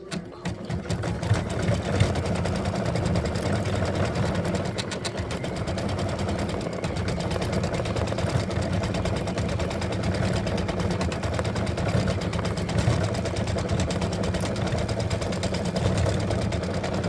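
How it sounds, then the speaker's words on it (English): A home embroidery machine stitches the body and head of a freestanding lace Halloween spider with black bobbin thread, giving a steady, rapid, close mechanical chatter that holds evenly throughout with no voices. "we're getting ready to stitch the body and the head"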